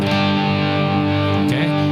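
A single sustained electric guitar chord rings out clean and steady, with a faint shift near the end as it decays slightly.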